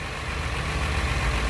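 An old Mercedes W111 engine with a carburetor ticks over at idle, a steady low mechanical drone with faint rhythmic pulsing, close and continuous with no voices.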